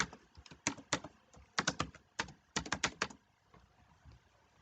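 A password tapped out on a computer keyboard in quick close bursts of key clicks with short pauses between, ending in quiet.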